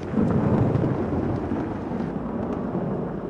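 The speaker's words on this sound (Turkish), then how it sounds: "Aha, yağmur yağıyor." Rain pours steadily and thunder rumbles low and close in the video game No Rest, a dense continuous wash with no voices.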